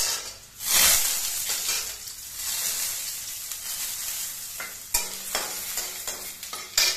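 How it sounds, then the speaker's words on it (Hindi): Cashews fry in a hot pan with steady sizzling and crackling, punctuated by a few stirring scrapes and clinks of a utensil against the pan, close and fairly loud with no speech. "सबसे पहले मैं काजू डाल देती हूँ"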